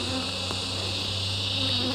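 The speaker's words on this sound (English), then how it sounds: "They're buzzing all around me now." Honeybees buzz steadily around a beekeeper at an open hive during queen replacement, a dense, continuous close-up drone with no talking.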